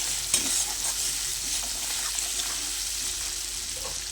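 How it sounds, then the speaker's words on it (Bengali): Chilli powder, salt and slit green chillies frying together for an egg and potato curry, a loud, even hiss of sizzling oil close up with a sharp clink near the start and no voices. "সানরাইজের লঙ্কার গুঁড়ো, পরিমাণ মতো লবণ, চিরা কাঁচা লঙ্কা একসঙ্গে ভালো করে কষিয়ে নেব।"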